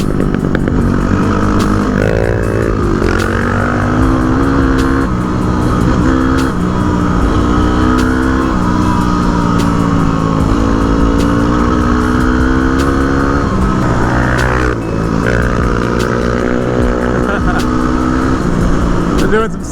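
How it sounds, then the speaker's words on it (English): A loud dirt bike engine roars steadily with revving, throttle swells and passing surges on forest roads, the rough exhaust note dominating throughout. "Doing some sick flybys right now."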